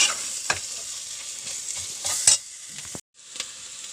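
Fennel seeds and masala frying in a pan for a beef curry, a continuous close sizzle with a few sharp stirring scrapes and spatula knocks, and a brief cut near the end.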